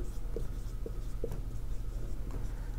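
Pen strokes of someone writing out a math solution, soft scratching with a few short distinct taps and scrapes at an uneven pace, faint and close, no talking.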